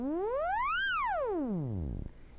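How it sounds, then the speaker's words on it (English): A theremin glides smoothly upward and then swoops back down in one long siren-like sliding tone, rich in overtones, sounding alone with a faint hum beneath it. "So you have this basic siren sound like this,"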